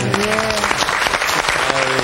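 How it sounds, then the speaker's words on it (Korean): An audience claps loudly and continuously in a church service hall, with a voice talking over the applause. "정말 박수가 저절로 나옵니다."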